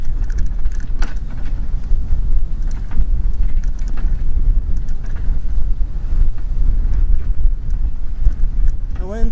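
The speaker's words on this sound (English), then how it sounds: "The wind seems to be picking up." Wind buffets the microphone during a ride on a classic Union bicycle, a continuous gusty roar that swells and rumbles steadily, with faint sounds of motion beneath.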